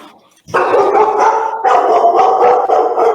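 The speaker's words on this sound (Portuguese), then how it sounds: "Esses são os cachorros passando." Several dogs barking and yipping together nearby, loud and continuous with overlapping barks.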